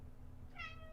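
A cat gives one short meow, close and clear, over a low steady background hum.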